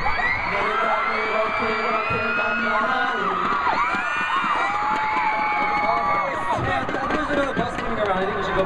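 A large concert crowd at a Korean music festival cheers, screams and whoops continuously and loudly, a dense wall of high-pitched shrieks that holds steady for several seconds.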